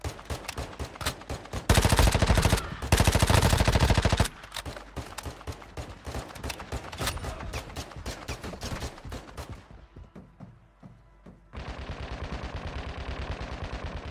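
Rapid gunfire from a weapon in a video game, dense repeated shots throughout, with two louder, heavier bursts early on, a brief lull near the end, then sustained firing resumes, no voices.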